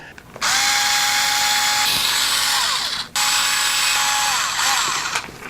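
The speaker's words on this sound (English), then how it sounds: "let's go ahead and open up one of these axles and just see what's inside" A power tool whirs loudly and close while opening an axle on an RGT EX86100 Pro RC car kit, running in two bursts of about a second and a half and two seconds, with a short stop between and a winding-down tail.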